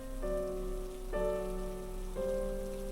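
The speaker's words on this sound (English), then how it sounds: "I think it's about to start raining. It is, isn't it?" Steady rain patter in a video game, a constant hiss beneath sustained musical chords that change every second or so, with no voices.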